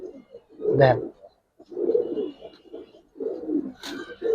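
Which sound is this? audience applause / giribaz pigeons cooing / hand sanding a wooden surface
giribaz pigeons cooing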